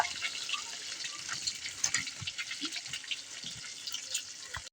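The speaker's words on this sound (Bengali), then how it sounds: "তেলে ছেড়ে দিয়েছি, হালকা একটু ভাজা ভাজা করে নেব।" Eggs coated in turmeric and salt fry in hot oil for an egg curry, giving a continuous crackling sizzle with scattered small pops at moderate loudness and no talk.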